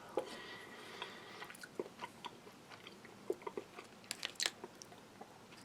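Close, quiet chewing of soft, salty, fatty bacon from a Russian army 24-hour ration, with scattered small wet bites and squishes in an irregular rhythm and no talking.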